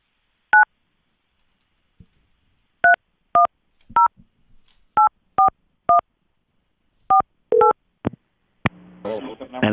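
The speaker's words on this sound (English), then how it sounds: "All right, let's dial him up, Erica." A telephone number is dialed as a string of about ten short, evenly spaced DTMF tones in a quiet room, with a soft click between, ending in a brief burst of line noise as the call connects.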